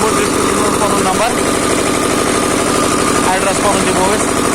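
A Kerala-design Kirloskar 7 hp diesel engine runs close and loud with a fast, even chugging beat, and someone talks over it.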